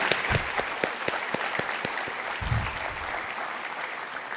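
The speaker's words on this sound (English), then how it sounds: "Let's give them a round of applause." Applause from a conference audience for a panel at a general session, a steady wash of many hands clapping throughout with a few sharper individual claps standing out near the front.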